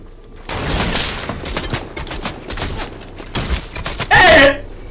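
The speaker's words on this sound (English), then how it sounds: "What the fuck is that gun, Sasa?" Gunfire from Fortnite rattles out in repeated loud, rapid bursts of shots, ending in a sharp, bright crack-like blast, with some talk mixed in.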